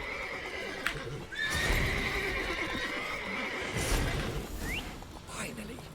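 Several horses whinny and snort in The Witcher 3, with a rising neigh near the middle and another near the end, mixed with hoof clip-clop and busy game background noise.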